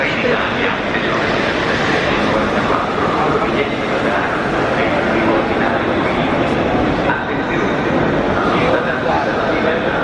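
A loud, constant roar of rumbling machinery and crowd noise in a large, busy railway station hall in Milan, Italy, with trains and people all around.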